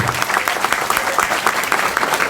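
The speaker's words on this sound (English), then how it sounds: "Can we give him and his team a big round of applause once again?" An audience at a squadron's 55th anniversary event applauds, a dense, lively round of clapping from many hands that keeps going throughout.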